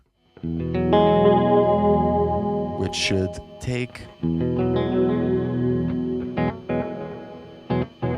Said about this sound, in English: every time I'm playing, it should duck the reverb and the delay. So when I stop playing, it lifts up and comes out.